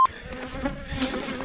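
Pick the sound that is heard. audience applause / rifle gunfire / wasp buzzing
wasp buzzing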